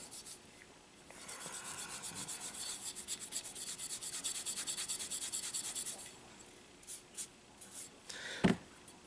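A Sabitoru rust eraser scrubs back and forth over a rusty steel blade in quick, soft, gritty strokes, faint and close, pausing near the end before a brief sharper knock.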